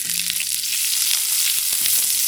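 Onion stir-fries in a pan for a mango shrimp dish, giving a brief, steady bright sizzle with a couple of soft stirring knocks.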